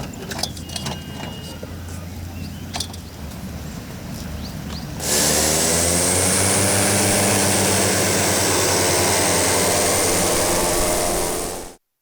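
A propeller airplane flying in the Congo hums steadily, then a much louder, continuous engine roar takes over for the second half and cuts off abruptly at the end. It is close and there is no talk.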